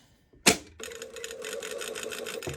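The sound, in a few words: sewing machine stitching a seam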